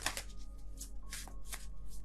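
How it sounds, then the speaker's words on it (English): Tarot cards being shuffled by hand in a quiet room, a run of papery riffling bursts and soft card slaps repeating every half second or so, close and fairly quiet with no talking. "I don't know what's going on with my shuffling right now."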